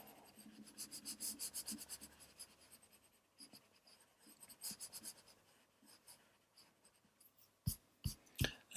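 Stylus strokes on a digital drawing tablet scratch and rub in irregular bursts for a stick-figure Chewbacca and Yoda drawing, close and fairly quiet, with a few sharper taps near the end.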